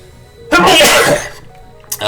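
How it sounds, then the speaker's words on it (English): One forceful close sneeze bursting out with a harsh breathy spray lasting under a second, then a short sharp sound after a pause. "Oh, I sneezed."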